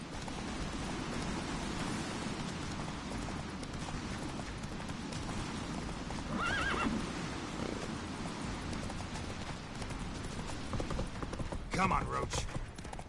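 Roach, Geralt's horse in The Witcher 3, gallops in a steady run of hoofbeats over a dense game soundscape, with brief brighter calls that may be neighs toward the end.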